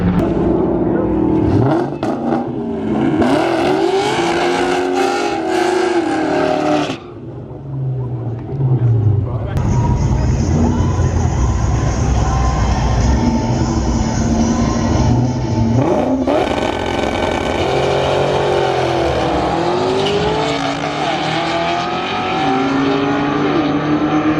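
A Cobra race car roars through a fast timed pass, its engine revving hard with rising harmonic sweeps, a brief dip mid-run, then sustained loud acceleration close by, with voices talking over parts of it.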